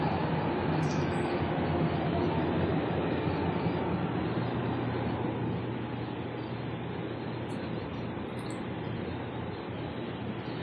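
The Yui Rail monorail in Okinawa, Japan, runs with a steady, loud rumble and whir heard from inside, continuous throughout and easing slightly toward the end, with no talking.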